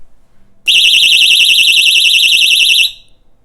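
A loud household alarm blares a shrill warbling electronic tone for about two seconds, starting abruptly and cutting off sharply, close and alone.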